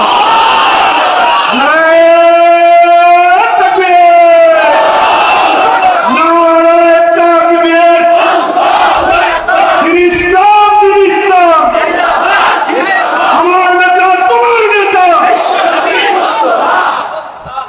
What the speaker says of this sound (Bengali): মুমিনের ইমান দীপ্ত স্লোগান হবে আল্লাহু আকবার।